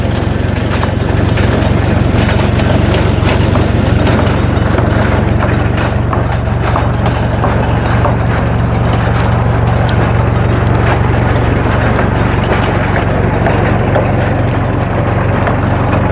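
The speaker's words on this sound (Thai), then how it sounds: "เจาะมันนี่เลยเนาะ" A well drilling machine bores into sandy soil, its steady motor drone and grinding churn running loud and unbroken throughout, with low rumbling and constant rattling texture and no voices heard.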